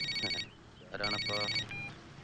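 A mobile phone rings from inside a pocket in two short bursts of bright electronic tone, with a voice speaking between and after the rings.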